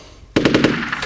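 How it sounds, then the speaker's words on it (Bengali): Burst of gunfire in a Bangladeshi war drama: a sudden loud volley of rapid machine-gun shots, about seven in quick succession, following a quiet moment. "গুলির শব্দ।"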